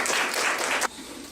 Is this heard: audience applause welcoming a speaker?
yes